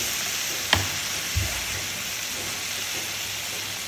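Hot coconut oil poured over fish frying in a pan, a steady bright sizzle with a couple of soft clinks near the start, close and continuous.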